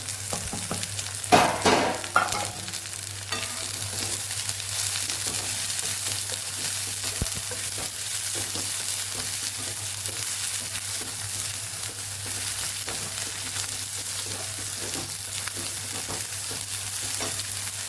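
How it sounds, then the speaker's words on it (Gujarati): Chopped green onion sizzles steadily in hot oil in a pan for a Kathiyawadi curry. After a clatter of pieces going in and a stir early on, a constant close frying hiss carries on with no talking. "હવે આપણે લીલો ભાગ ઉમેરી દઈશું એને પણ સાતળી લેવાનો છે"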